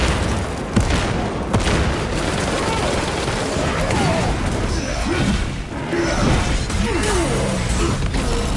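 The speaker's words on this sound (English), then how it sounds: "Deploying frag grenade!" A frag grenade blast in a Warhammer 40k video game, heard as a loud burst within a dense, continuous wash of battle noise, clanking machinery and crashing debris, with a voice speaking amid the din.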